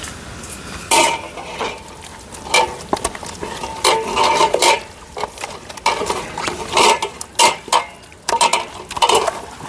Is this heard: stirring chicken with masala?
yes